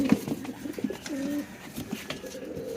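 Giribaz pigeons coo in soft, throaty rolling phrases close by, several birds overlapping in short bursts over light background noise.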